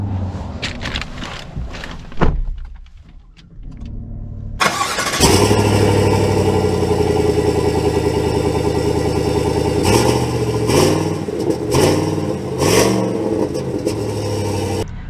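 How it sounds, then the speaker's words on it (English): A 2023 GMC Sierra 1500 Pro pickup with a 5.3-liter V8 fires up after a few brief clunks and settles into a loud, steady engine drone that swells with revs as the truck pulls away, with no talking. "let's see how it drives."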